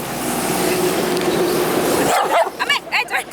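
A dog named Johnny, near a temple in Nepal, gives a few short, loud barks close by after steady background noise, with irregular bursts near the end.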